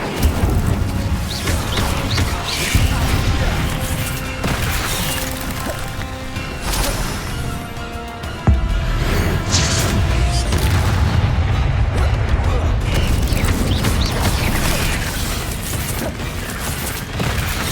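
Fire spells cast in quick succession during Hogwarts Legacy combat on Xbox Series S, a dense run of booming impacts and crashing bursts with mechanical clatter, loud and continuous with sharp hits at steady intervals.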